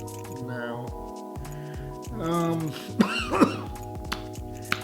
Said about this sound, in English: I bet it was the Scotch Guard that got me coughing